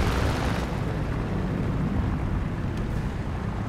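An artillery strike lands in War Thunder, a sustained, loud, deep rumbling roar of explosions that holds steady for several seconds with no talk over it.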